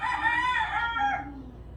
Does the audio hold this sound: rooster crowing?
yes